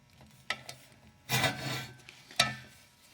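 A crescent wrench turns the dust cap on a harness racing sulky wheel, giving a scraping metal rasp with a couple of short sharp clicks, close and alone.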